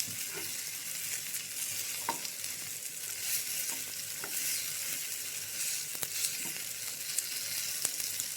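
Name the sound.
stirring masala with green chillies and curry leaves in pan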